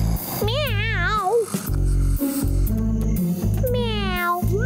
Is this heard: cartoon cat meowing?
yes